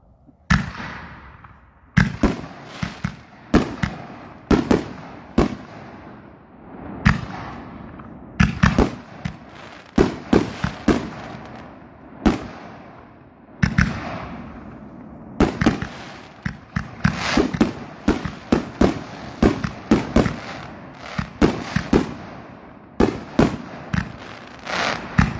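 A Hellfire 36-shot firework cake fires off a long run of sharp bangs and crackles, rapid and uneven bursts building into dense volleys near the end, loud and close outdoors with no talking.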